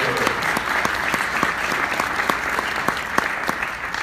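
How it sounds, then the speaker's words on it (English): A live audience claps at a talk, a brisk, steady round of applause with individual hand claps standing out sharply above the massed clapping for the whole stretch. "let's give her a round of applause"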